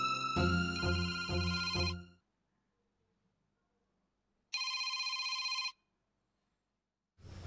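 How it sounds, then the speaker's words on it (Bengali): A telephone bell rings loud and close in two trilling bursts separated by silence, with a third ring just starting at the end; no one speaks. "রুস্তম ভাইরে ফোন দে।"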